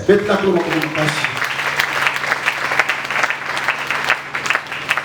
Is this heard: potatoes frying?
no